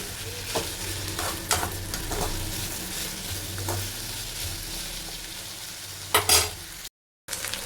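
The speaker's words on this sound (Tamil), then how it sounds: "இதை வந்து இப்போ நல்லா கிளறுவோம்" Spiced food sizzles steadily in hot oil in a pan while a spoon scrapes and stirs it in bursts. The stirring is close and moderately loud and is followed by a brief dropout near the end.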